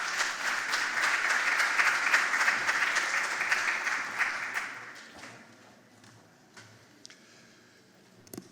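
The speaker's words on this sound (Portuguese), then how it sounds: "Uma salva de palmas." A hall audience at a closing ceremony in Portugal applauds loudly and steadily, then the clapping fades out over a few seconds, leaving a quiet room with a few scattered claps and small knocks.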